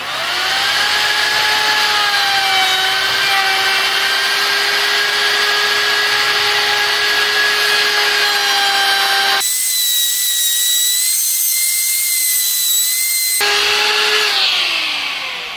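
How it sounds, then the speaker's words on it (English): A handheld router fitted with a round-over bit shapes the edges of wooden bars for a parkour bar trainer, giving a loud, steady high-pitched whine that runs continuously, dips briefly, then resumes near the microphone with no talk. "if you have a router, route the edges of these with a round over bit"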